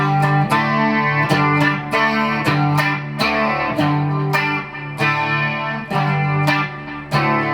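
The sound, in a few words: enthusiastic guitar strumming with effects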